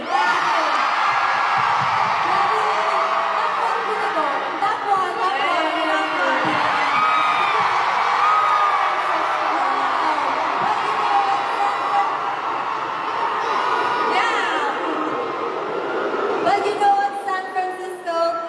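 A loud, continuous roar of a concert crowd screaming and cheering at a show in San Francisco, with high whoops and shrieks throughout and no break in the noise.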